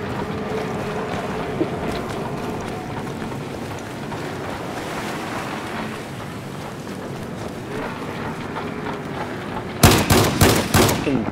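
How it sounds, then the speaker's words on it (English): An enemy boat engine in Battlefield 4 hums steadily over wind and water noise, then a burst of sharp gunfire-like cracks erupts near the end. "there's an enemy boat operating out there"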